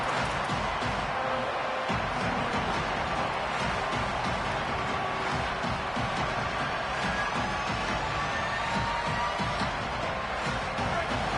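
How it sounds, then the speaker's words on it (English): A football stadium crowd keeps up a constant dense roar of cheering and noise throughout, with voices talking over it. "This crowd bringing the energy and noise early."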